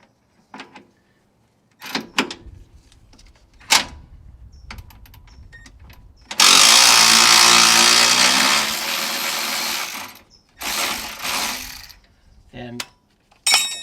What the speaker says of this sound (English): if I can get my electric ratchet in there, I want to, because it's just going to save you so much work.